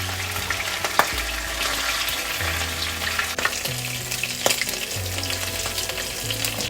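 Chicken pieces shallow-fry in a pan for restaurant-style butter chicken, giving a loud, steady sizzle and crackle close by, with occasional sharp stirring clicks and soft background music underneath.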